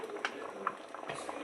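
Fish curry (meen kulambu) bubbling in a pot, close up, with soft irregular pops and gurgles of boiling liquid over a light steady simmer.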